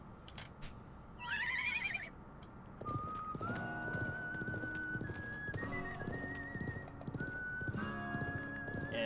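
A horse in the Wild West chapter of the video game Live A Live gives a whinny, then clip-clop hoofbeats run under an accompanying melody with whistling notes.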